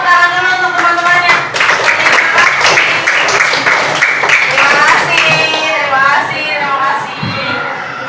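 Schoolchildren in a classroom clap together, a lively burst of many small hands that continues under a teacher's voice and fades toward the end.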